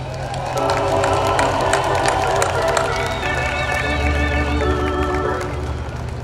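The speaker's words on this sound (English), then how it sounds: "So one round of applause for those guys who really made this happen" A large crowd at the Chicago Cubs 2016 World Series championship rally cheers and applauds for the players, a loud sustained roar of clapping and shouts with whistles and tonal sounds rising over it.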